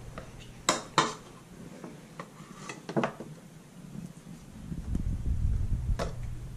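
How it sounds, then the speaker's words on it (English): Pumpkin being mixed into applesauce in a kitchen, with a couple of sharp clinks of a utensil against a bowl or jar early on, light scraping taps, then a steadier low stirring rumble toward the end. "now it's time to mix some more pumpkin in there."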